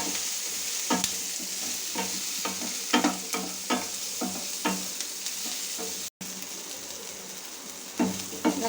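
Onion with cinnamon, cloves, star anise, poppy seeds and fennel sautéing in a pan for Tamil egg curry, a steady close sizzle broken by repeated scraping stirs through the whole stretch, with no talk.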